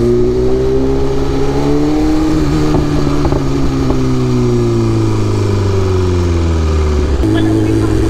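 A BMW S1000RR superbike's engine pulls steadily with a strong, rising then sagging tone, close and loud throughout, with a brief shift-like dip near the end.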